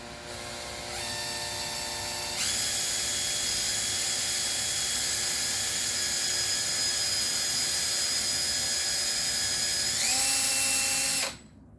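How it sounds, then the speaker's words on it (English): A drill bores into a PS90 barrel shroud with a loud, steady motor whine that starts, rises to full speed and holds at cutting pitch for nearly ten seconds. Near the end it shifts pitch briefly before cutting off sharply. "I'm just going to take my drill, go to that mark,"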